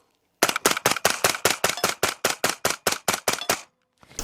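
A Foxtrot Mike-9 AR9 pistol-caliber carbine with a suppressor and a Black Talon trigger fires about fifteen sharp, evenly spaced shots in quick succession, loud and close, followed by a brief pause and one faint trailing sound.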